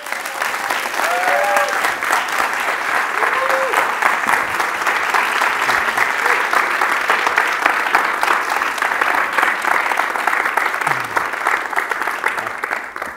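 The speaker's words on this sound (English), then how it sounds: "please give a warm round of applause to Theda Skocpol and René Flores." Sustained, even applause from a live audience at a podcast taping, welcoming two guests onto the stage. Dense, steady clapping from a full room carries on for over ten seconds before trailing off, with a couple of faint voices underneath.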